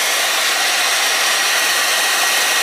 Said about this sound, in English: The hair dryer is still running.